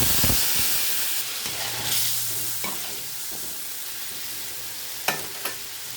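Spice paste with ginger, cumin, tomato, chilli, turmeric and salt frying in oil for a Bengali curry, a steady close sizzle stirred with a few utensil scrapes and clinks.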